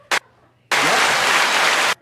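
A canned applause sound effect fired from a lit button: a short click, then a loud, even burst of recorded clapping lasting just over a second that cuts off abruptly.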